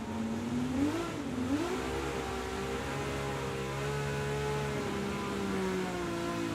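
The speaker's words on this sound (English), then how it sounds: "you rev that hard" A car engine in a racing video game revs hard and steadily, its whining, rising and falling pitch sustained loudly throughout with no talking over it.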